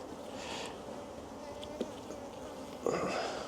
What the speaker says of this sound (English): We do have a lot of bees right on the handle that I want to pick up there.